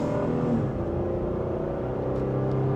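2026 Honda Passport Trailsport accelerating in sport mode in second gear, the engine note rising steadily in pitch over a low road rumble, moderately loud and continuous, with no speech.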